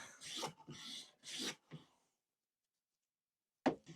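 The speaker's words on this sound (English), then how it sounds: "It's just basically scraping the wood." A cheap £10 hand plane dragged over wood, scraping instead of cutting, giving several rough rasping strokes close up, then a pause and one short final scrape.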